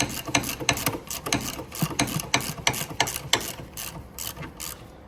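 A socket ratchet turns a front suspension nut on an Audi A5 (2007–2016), giving rapid, close, steady metallic clicking that runs throughout with no talk.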